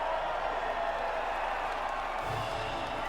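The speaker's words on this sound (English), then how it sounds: "the reaction from the crowd must be incredibly uplifting for them" Steady distant crowd roar and cheering at the podium after a Formula 1 race in F1 2019, a continuous wash of noise without clear individual voices.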